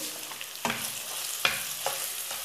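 Tomato and tomato paste frying in a pan while being stirred, with a steady sizzle beneath a few distinct spoon scrapes spaced about a second apart, close up and with no talk.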